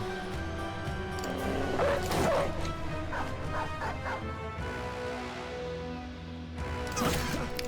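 Dogs barking and yipping inside a video game, with mixed barks, whimpers and thwacking combat hits layered over game music, moderately loud and continuous with no talk.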